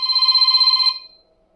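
A mini Android phone rings with a single electronic ringback burst, a bright steady tone that cuts off sharply and fades to silence.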